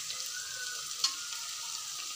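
Onion and garlic fry in hot oil for veg pulav, a steady, even sizzle with one brief louder crackle midway and no voices.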